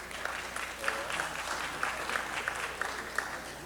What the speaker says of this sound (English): un round of applause